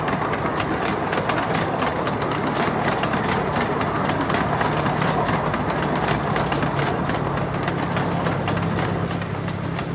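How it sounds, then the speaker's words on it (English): Ride aboard a miniature heritage train at Diamond Valley Railway, a loud continuous rattling clatter of wheels and cars on track with steady rhythmic clicks, close and unbroken throughout. "we're going to head out, go for a train ride."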